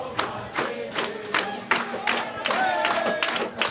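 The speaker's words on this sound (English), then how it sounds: "The crowd's going wild." A rugby finals crowd sings and chants in high spirits, with rhythmic rising shouts and scattered claps, loud and close, under a commentator's talk.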